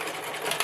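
A sewing machine stitches a 5/8 seam through two pieces of fabric, a brief, steady whirring hum close by with no talking.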